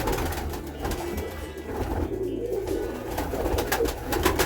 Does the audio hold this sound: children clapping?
no